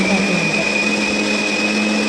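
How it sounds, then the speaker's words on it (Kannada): An old mixer grinder, over ten years old, grinding spices whirs loudly and continuously at full speed, a steady high-pitched motor hum with no breaks. "ನೋಡಿ ಈ ರೀತಿಯಾಗಿ ಹಾಕ್ಕೊಂಡು ರುಬ್ಬೋದು"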